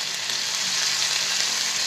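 Finely chopped onion sautés over a low flame in oil with asafoetida and turmeric, a steady, even sizzle heard close up without pause.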